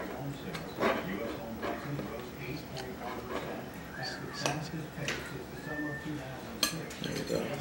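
A utensil cuts coffee cake into squares in a metal pan, giving scattered clinks and scrapes of metal on metal at an irregular pace, close and fairly quiet, under a person talking.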